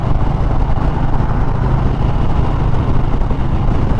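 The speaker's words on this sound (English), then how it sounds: "A lot of traffic on the 101 today." Steady, loud roar of traffic on the 101 freeway in Arizona, a continuous broadband rumble of car engines and tires with no breaks or distinct passes, and no voices.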